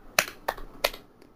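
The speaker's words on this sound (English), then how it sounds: "You actually are clapping." Hand clapping: three sharp, close claps spaced about a third of a second apart, then a faint fourth, in a quiet room.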